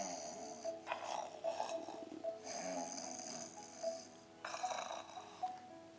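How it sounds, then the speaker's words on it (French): A wolf snoring in a French audio fairy tale of Little Red Riding Hood, slow repeated snores rising and falling alone over a faint background. "le loup se coucha et s'endormit. Aussitôt, il se mit à ronfler"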